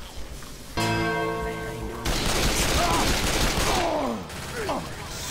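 Gunfire rattles through a realism versus round of Left 4 Dead 2 on The Passing, with dense bursts and a sustained ringing tone over chaotic game noise and voices.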